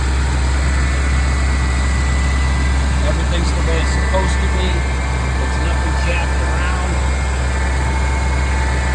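A 1996 Ford F350 XLT pickup's diesel engine idles with a steady, low, even rumble throughout, while someone talks over it.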